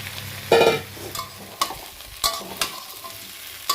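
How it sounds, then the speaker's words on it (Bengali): Fried cauliflower and potatoes tipped into spice paste frying in a pan for fish curry, a loud burst of sizzle at the drop, then scattered scrapes and stirring knocks over a low crackle. "এবার ভাজা সবজিগুলো দিয়ে দিচ্ছি, ফুলকপি আলুগুলো দিয়ে দিলাম।"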